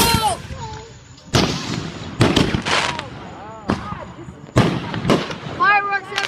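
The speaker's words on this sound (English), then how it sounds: "Fireworks everywhere!" Fourth of July fireworks burst in a rapid series of sharp, loud bangs and crackles with whistling rockets between them, while friends shout and talk excitedly nearby.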